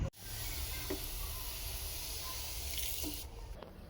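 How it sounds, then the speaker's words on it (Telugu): Drinking water steadily filling plastic cans on a balcony, a continuous broadband rush with a brief tonal hiss, fairly close and unbroken for the whole span, ending with a short change in flow. "3 క్యాన్లు ఫిల్ చేస్తున్నాం"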